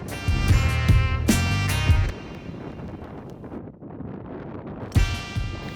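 Wind buffets the microphone on a seaside links golf course at Royal St. George's, a steady roaring gust with louder bursts at the start and end.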